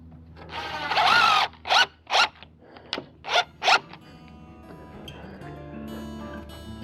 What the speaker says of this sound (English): So I'll drive them in a little farther.